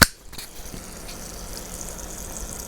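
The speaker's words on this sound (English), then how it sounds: "let's go ahead and let's turn the pump on" A small water pump circulates coolant through a water-cooled Steam Deck, starting with a brief click and then settling into a steady, faint gushing hum with trickling water.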